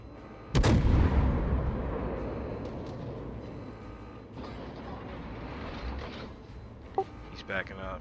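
Heavy naval gun salvo from the Des Moines cruiser in World of Warships, one loud booming blast followed by a long rumbling decay, with a voice speaking and faint clanks after.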